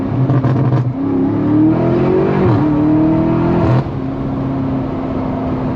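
Car engine pulling hard in second gear on a city street, a loud close rising roar that climbs in pitch, dips briefly at a shift, then cuts off to a steady lower drone.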